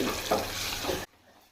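Ginger and garlic stir and fry in a pan with salt and turmeric, a steady sizzle and scraping for about a second before it cuts to near silence.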